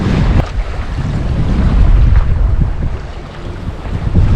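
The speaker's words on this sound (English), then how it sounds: "This is what real sailing looks like." A sailboat making 10 to 11 knots, with loud, continuous wind buffeting across the microphone and rushing water and waves rising and falling throughout, and no voices.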